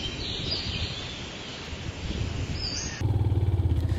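A motorcycle engine drones on a mountain road climbing uphill, steady and fairly close, rising into a harder rhythmic pulse near the end, with faint birdsong in the background.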